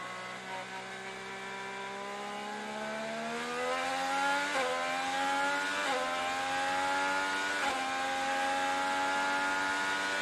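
IndyCar race car engine during a wet practice session at Road America, a whining, rising engine note that climbs through several upshifts as the car accelerates, steady and fairly loud on its own.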